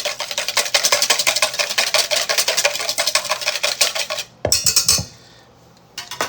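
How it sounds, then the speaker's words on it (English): Utensil stirring an egg mixture with vodka, wine and soy sauce for sesame chicken, a fast, steady clatter of whisking against a bowl that runs several seconds, pauses briefly, then resumes with a few final taps. "And we're going to stir that up well to combine."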